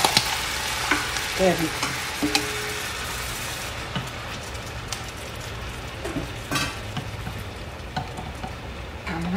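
Shrimp hitting melted fat in a pan set to low heat, giving a steady close sizzle with stirring clatter and occasional sharp pops; a voice briefly speaks over it.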